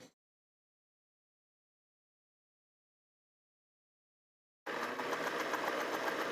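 Sewing machine stitching a quilted pillow cover, starting up after a long silence and running steadily and loudly with a continuous whirring motor drone.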